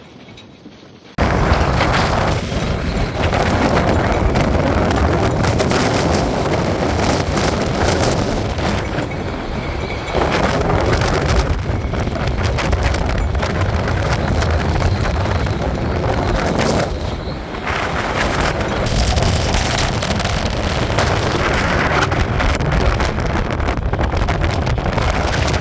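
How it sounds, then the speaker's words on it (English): Strong storm winds of around 60 to 70 mph on the Wirral coast, a loud unbroken roar of gusts battering the microphone with slight swells and dips, continuous for the whole stretch with no talking. "They're getting up to about 70 mile an hour winds towards the coast"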